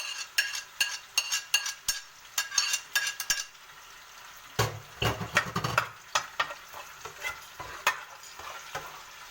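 Alexandrian-style liver frying in hot oil while being stirred, with repeated scraping clanks of a utensil against the pan over a steady, quiet sizzle, sometimes rising into louder bursts.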